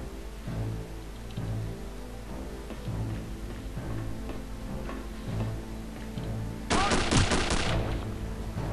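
Gunfire in the video game Return to Castle Wolfenstein: a loud, sharp burst of rapid shots breaks in near the end over a steady, quieter game background.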